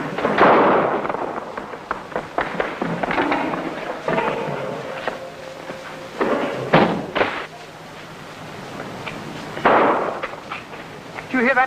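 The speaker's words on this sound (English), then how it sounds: "That was the sound of shots." Gunshots ring out in a garage during an old 1950 crime drama hijacking scene, a few sharp bangs with echoing reports mixed among shouted voices and scuffling noises.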